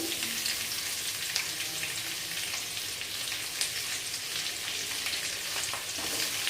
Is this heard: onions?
yes